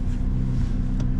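A Corvette C8 Z06 at light baseline throttle gives a steady low engine drone from the cabin, with a brief soft whir near the end.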